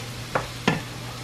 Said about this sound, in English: now we're gonna add in our smoked sausage